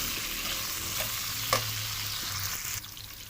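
Taro (arbi) pieces fry in hot oil in a pan, giving a steady broadband sizzle throughout with a brief stir or clink of a utensil near the middle and a slight drop in intensity toward the end.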